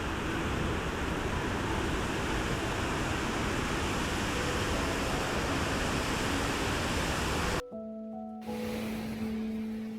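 A waterfall roars as a dense, steady rush of water, heard from a bridge on a hike in Sikkim's Dzongu region, cutting abruptly to a quieter tone-filled passage near the end.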